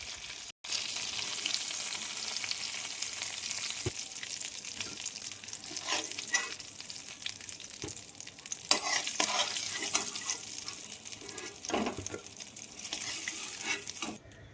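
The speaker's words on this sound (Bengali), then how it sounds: "বেগুনের এক সাইডটা ভাজা হয়ে গেছে, তাই অপর পার্টটা উল্টে দিচ্ছি" Eggplant slices fry in hot oil, giving a continuous crackling sizzle with scattered scrapes and flips of a utensil, close and steady throughout.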